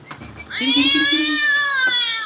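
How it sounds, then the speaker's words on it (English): A cat meows loudly from up in the rafters, one long drawn-out cry with a rising start, close and alone. "The cat's up here in the rafters, trying to get him down for Kathy."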